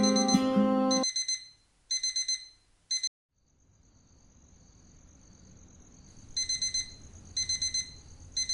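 An alarm clock rings in repeated short bursts of bright beeping, then goes quiet before a faint steady tone and further beeping bursts return near the end, with soft background hiss between.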